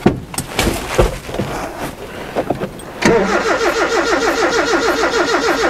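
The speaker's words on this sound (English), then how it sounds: "The fuel pump only primes when you're the engine's turning." A 1980 Chevy LUV 4x4 truck engine cranks with a few sputtering attempts, then catches and settles into a steady, rhythmic running idle, loud and close.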